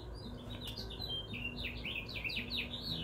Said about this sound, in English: That bird is just singing for all it's worth.